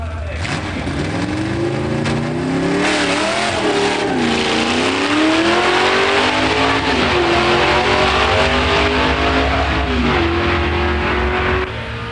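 Drag race launch of a 1971 Dodge Demon 340 four-speed against a 1979 Camaro Z28 350 four-speed, loud engines revving and climbing through gear changes continuously, with a voice talking faintly underneath.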